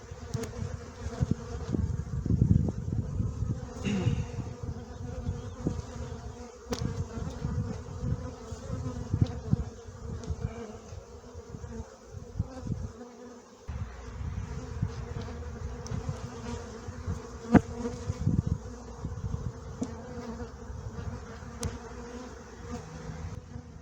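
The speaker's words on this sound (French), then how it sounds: "ça sert à rien d'énerver les abeilles" Honey bees swarm and buzz steadily around an overfull beehive, a dense close drone that persists throughout with no talking.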